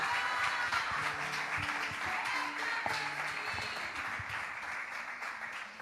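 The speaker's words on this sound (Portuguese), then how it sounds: "Aplauda ao Senhor e eu agradeço a oportunidade em nome de Jesus." Church congregation applauding during a sermon, a broad steady wash of clapping from a room full of people, moderately loud and sustained throughout with a few faint tones and shuffles underneath.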